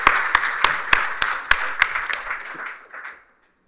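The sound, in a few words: audience applause at a members reception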